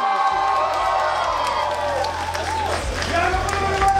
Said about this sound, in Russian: Ваши бурные аплодисменты